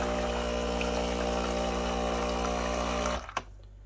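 An espresso machine hums and gurgles as hot water runs steadily, then the pump cuts off abruptly near the end with a brief click.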